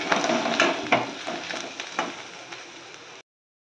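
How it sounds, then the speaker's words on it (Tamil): Spinach with grated coconut is stirred in a pan, giving a steady broadband sizzle with soft scraping strokes and a few sharper spoon knocks, fairly close, ending abruptly after about three seconds. "ஒரு கலர் கிளறிட்டு அடுப்பை ஆஃப் பண்ணிடலாம்"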